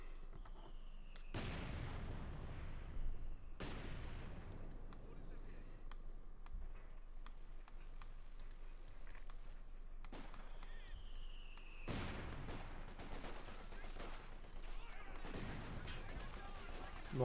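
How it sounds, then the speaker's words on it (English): Artillery fire in the video game Company of Heroes 2, several distant booming impacts spread out over time against a quiet battlefield background, faint overall. "More artillery called in."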